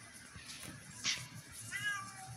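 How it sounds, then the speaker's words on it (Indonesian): A cat meows a few times over background noise, with one brighter, louder cry near the middle and a drawn-out call toward the end. "Itu kucing apa sih?"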